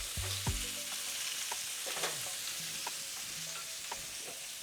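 Salmon frying in a pan: a steady, bright sizzle holds throughout, with a few stirring and utensil knocks on top.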